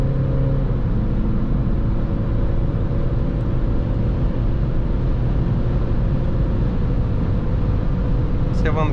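A steady, loud cabin drone of a VW Polo V 1.6 TDI diesel with a 7-speed DSG cruising fast on the highway in seventh gear at about 170 km/h, engine and road roar constant, with someone talking over it.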